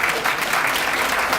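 A short burst of dense clapping from an audience at a graduation promotion ceremony, steady and fairly loud for the whole moment.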